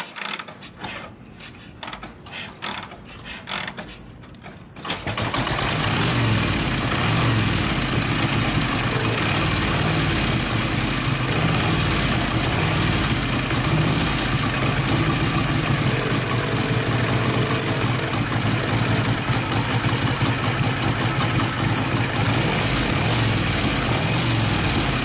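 A 1947 Harley-Davidson EL with an incorrectly rebuilt carburetor is heard: a few seconds of quiet fiddling, then the engine fires up and settles into a loud, steady, close idle for about twenty seconds.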